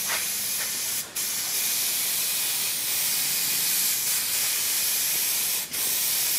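A can of spray adhesive hisses in a steady, continuous spray while a car headliner is glued. The hiss is close and loud, with only two brief breaks.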